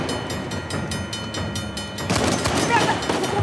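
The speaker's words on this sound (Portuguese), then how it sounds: "O comboio está a aproximar!" A train rumbles and clatters closer in the action video game Uncharted: The Lost Legacy. It starts as a steady rolling drone and swells louder and rougher halfway through, amid gunfire-like bursts and game action.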